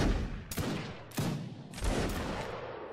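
Musket volleys ring out in the Napoleonic-era game Mount & Blade: Napoleonic Wars, three loud rippling bursts of gunfire about half a second apart. Each burst leaves a rolling echo that fades behind it.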